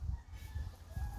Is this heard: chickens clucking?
yes